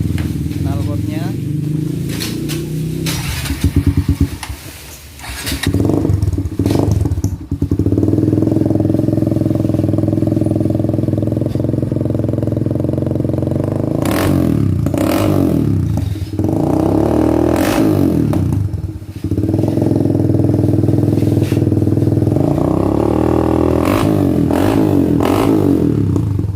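Kawasaki W175 motorcycle fitted with an ORP7 racing exhaust, idling loud and close with a throaty drone and repeatedly blipped into sharp revs that drop back to idle over a long stretch.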